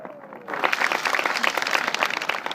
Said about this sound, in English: can I give them a huge cheer and a round of applause?